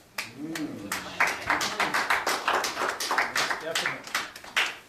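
Lecture audience clapping at a talk on Pan-Africanism, a run of distinct, somewhat uneven hand claps that swell and fade over several seconds, fairly close, with a voice speaking over them.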